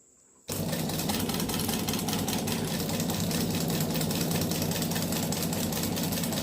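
A sewing machine at a tailoring setup starts after a brief quiet moment and then runs steadily and loudly, a continuous mechanical whir with a fast rhythmic chatter close to the listener, with no talking.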